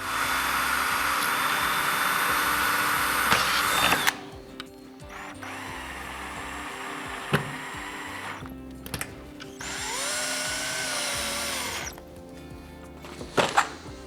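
Power drill driving fasteners to secure marker wall trim to a wall: a loud sustained whir for about four seconds, then several shorter bursts and a rising spin-up separated by pauses and small clicks, close up.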